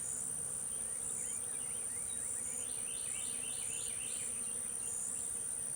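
Honeybees buzz in the open during an inspection of a new colony. The sound is a faint, continuous insect hum with several brief, brighter buzzes as bees pass close, and no voices.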